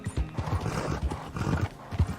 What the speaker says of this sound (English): Horse is agitated by a predator.